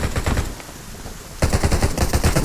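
Rapid automatic gunfire in the zombie survival game Undawn, loud and close in fast bursts, a short lull, then the shooting resumes with more force.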